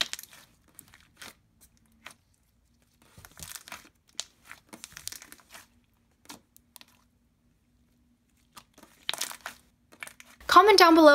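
Thick, clicky purple slime blended from pink and blue being pressed and squeezed, giving a string of sharp close clicks and crackly pops in irregular bursts, with a short loud burst of other noise at the very end.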